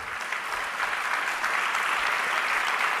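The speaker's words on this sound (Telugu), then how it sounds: "ఒకసారి చప్పట్లు కొడతారా వాళ్ళకు?" A large audience claps together in steady, dense applause that holds evenly from start to finish, with no talk over it.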